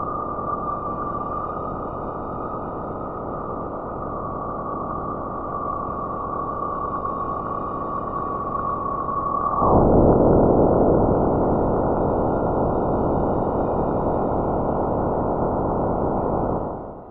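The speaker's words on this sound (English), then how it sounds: "These are colossal electrical processes taking place in Jupiter's magnetic field, so powerful that they can affect the space around the planet." Spacecraft recording of electrical processes in Jupiter's magnetic field: a dense, steady hiss with a thin sustained tone that cuts off abruptly partway through, giving way to a louder, brighter rushing wash that fades at the end.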